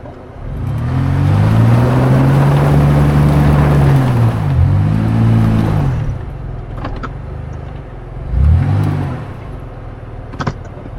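An off-road vehicle with its rear locker engaged spins its wheels in sand, giving a loud engine roar that climbs and falls in pitch over several revving surges, up close.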